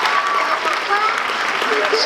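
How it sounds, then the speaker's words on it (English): An audience gives a round of applause: a loud, steady wash of clapping heard up close, with voices mixed in. "Clap, you can clap, one applause, one applause, one applause."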